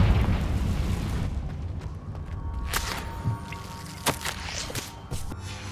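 A Confringo fire spell bursts in Hogwarts Legacy, with a few sharp explosive blasts and pops rising out of a dense, rumbling game soundscape.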